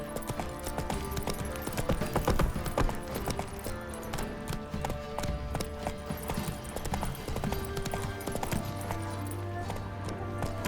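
Roach the horse gallops in The Witcher 3, its hooves beating out a steady, fast rhythm over game music, with no one speaking.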